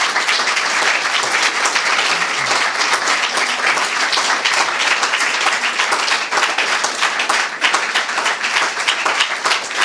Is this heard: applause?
yes